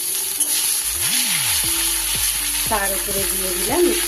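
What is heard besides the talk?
oil sizzling in a pan with turmeric and tempering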